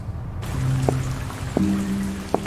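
Light rain patters steadily in the video game Through the Darkest of Times, with a few sharper drip-like taps and low hums underneath, all at a moderate, even level.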